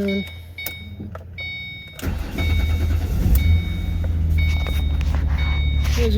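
A 2006 Ford Mustang with a 4.0-litre V6 is started up from the driver's seat, a brief crank catching into a steady, slightly buzzy idle that runs loud and close, with faint chimes sounding over it.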